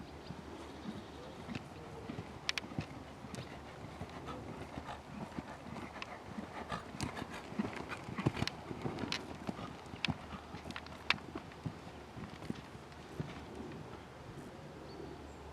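A horse's hooves clip-clopping on the ground of a riding school during jump training, a quiet, uneven run of soft thuds that continues throughout under distant background noise.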